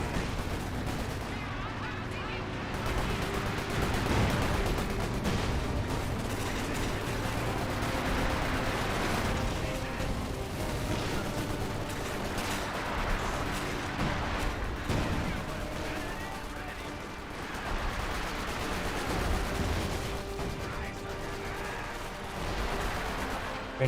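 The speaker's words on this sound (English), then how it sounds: "These grenadiers take a bit of a beating from those mortars." Mortar fire in Company of Heroes 2, a dense continuous din of booms, gunfire and impacts churning through a wartime battle with no clear pauses.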